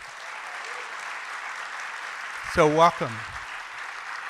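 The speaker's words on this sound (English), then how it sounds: "Can I get an applause for that?" Audience applause at a Kansas City welcome event, a steady broad wash of clapping from a crowd throughout, with a voice briefly speaking over it partway through.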